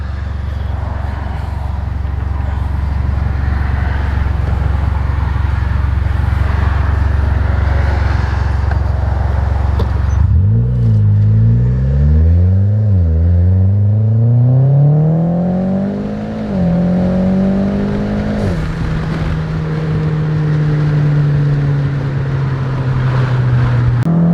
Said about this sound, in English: We'll do a nice little launch from second gear at least.